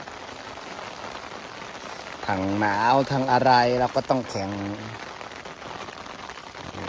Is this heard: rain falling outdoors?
yes